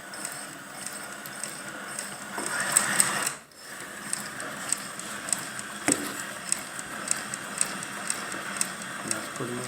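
Leather Master leather patch sewing machine stitching through a leather patch, a steady run of close mechanical ticks with a brief pause partway through, near and fairly loud.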